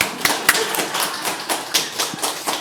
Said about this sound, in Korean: 박수 한 번 씁시다.